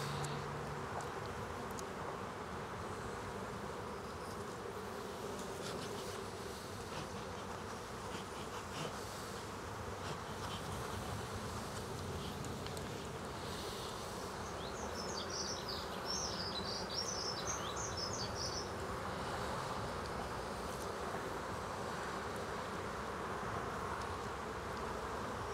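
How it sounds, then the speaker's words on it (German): Dense, steady buzzing of a large honeybee colony at an open Langstroth hive during a swarm check, droning continuously and close throughout with no talk. "Bei den Bienenmassen hier."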